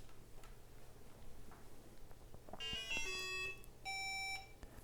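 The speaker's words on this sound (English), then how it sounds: "So now let's take on the metal detector and look how does it work." A DIY Arduino metal detector with an LCD screen gives faint ticking clicks, then two bursts of sharp electronic beeping tones, the second a cleaner steady tone, over a low background hum.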